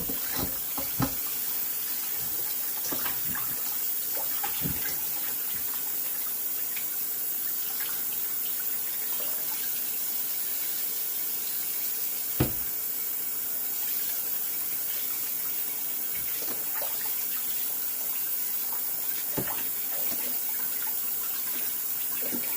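Running tap water pours steadily into a sink as four turkey wings are rinsed, a constant close splashing rush broken by a few sharper knocks and splatters.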